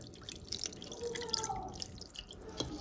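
Water trickles and drips softly into a cooking pot at home, with faint pouring and splashing sounds and some light handling noise throughout.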